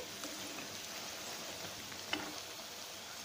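Layered madatha kaja sweets fry in hot oil with a steady, close, gentle sizzle while a ladle stirs them, and one brief clink sounds near the middle.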